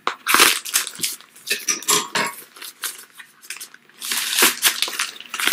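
Plastic packaging crinkling and rustling up close while purchases such as workout clothes are unwrapped, with sharp crackling bursts coming in irregular waves.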